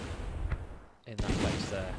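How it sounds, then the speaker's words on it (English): Mortar fire in the wartime strategy game Battle Academy 2: a sharp blast rings out near the middle after a brief lull, set in continuous battle noise with a faint earlier thump, while a voice talks over it. "A bit of mortars in that."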